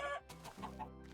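A short burst of Beta Minecraft chicken clucking, a few quick choppy clucks in a row, with no other sounds around it.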